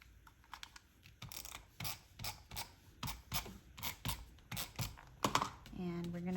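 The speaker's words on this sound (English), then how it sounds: "And we take our tape runner." A tape runner lays adhesive on the back of a photo for a scrapbook page. It makes a run of close, sharp clicking and rasping strokes in an uneven rhythm, ending with a brief higher-pitched whir.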